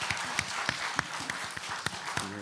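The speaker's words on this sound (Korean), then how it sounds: "감사와 영광의 박수 한번 힘차게 돌려드리겠습니다" Church congregation at a Friday healing service clapping together in steady applause, a dense patter of hand claps with a few sharper slaps, moderately loud and without talk.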